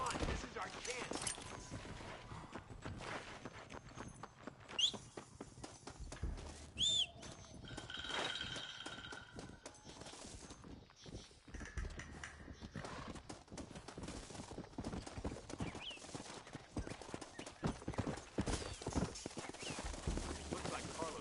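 Horse hooves clop in the Red Dead Redemption video game, with neighs, scattered gunfire and a voice talking over the scene, all fairly quiet and busy.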